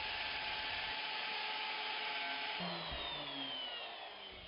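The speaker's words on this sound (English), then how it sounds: "Now position the jig to route the holes to the connecting bolts." A router cuts bolt holes into a kitchen worktop, guided by a jig. A steady high-pitched whine runs throughout, shifting in tone partway as the bit bites, then easing slightly near the end.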